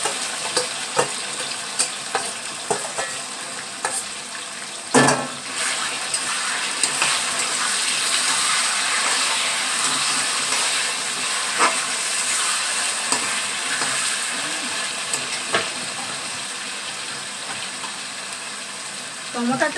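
Marinated chicken for murgi polau sizzles and fries in a pot with a steady, bright crackle, broken by occasional clanks of a utensil stirring against the pot, while someone speaks faintly.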